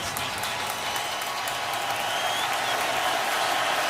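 Steady, dense roar of a stadium crowd at an NFL game, Lions at Saints in 2015, loud and continuous with broadband hiss and no clear voices standing out.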